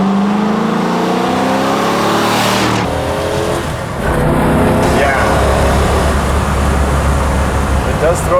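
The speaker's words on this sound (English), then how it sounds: "the motor is pretty strong. Rev's really good, pulls really strong" A classic Chevy muscle car engine revs hard and pulls strongly, loud and close, its pitch climbing through a gear before dropping and building again as the car accelerates.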